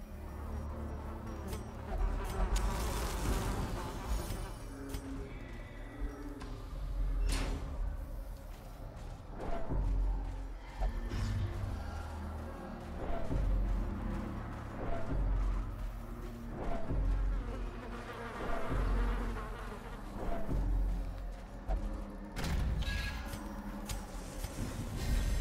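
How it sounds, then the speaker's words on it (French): Small mosquitoes whine and buzz steadily along the long dungeon corridors of the Darkest Dungeon game, a thin insect drone with soft thuds and ambient rumble beneath, no voices. "C'est sympa ces longs couloirs avec des petits bruits de moustiques."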